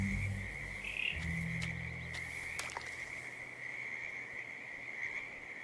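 Frogs croak and chirp in a frog habitat in the video game Hitman 2, a continuous dense chorus with a steady high trill and low pulsing tones fading early, under constant outdoor ambience.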